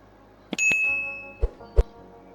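A bright bicycle-style notification bell sound effect dings with a lingering tone, followed by two soft thumps.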